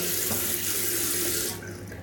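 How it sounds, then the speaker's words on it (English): Water runs steadily from a tap into a sink while shaving lather is mixed, a close, full hiss that eases off near the end. "I might add a touch more water."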